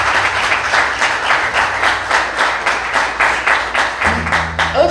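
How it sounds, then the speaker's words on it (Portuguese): Congregation in a church service clapping loudly in a rhythmic, pulsing applause, with a low sustained tone underneath. "Vamos aplaudir Jesus bem forte"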